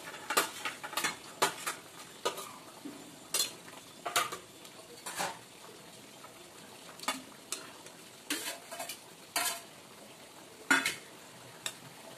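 Soft sizzling of fish frying in a pan, broken by repeated scrapes and clinks of a utensil against metal at irregular intervals.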